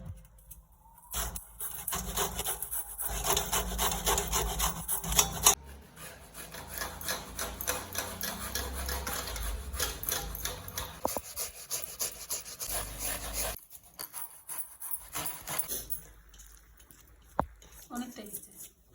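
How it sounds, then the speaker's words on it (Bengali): Taro root scraped with a hand scraper, a steady rough rasping rub with repeated strokes that runs for most of the time, with short pauses and a couple of sharp clicks. "কচুটা এটা দিয়ে কুড়ে নিচ্ছি।"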